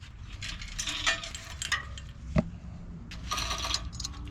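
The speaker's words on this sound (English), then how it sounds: "Now let's put our chain back on. We're gonna feed it through the front derailleur." Bicycle chain being fed by hand through a front derailleur, giving soft metallic rattles and light clicks with one sharp tick near the middle; close and fairly quiet, with no talking.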